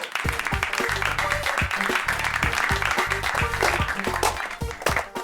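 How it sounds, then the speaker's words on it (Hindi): An audience in a superhero drama breaks into applause, a run of rapid claps over layered music, with sharp louder claps toward the end. "ठोको ताली।"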